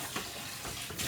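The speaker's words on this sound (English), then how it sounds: "Put water in that straight away so it doesn't stick." Water runs from a tap into a mixing bowl, a soft, steady splashing hiss heard alone for about a second.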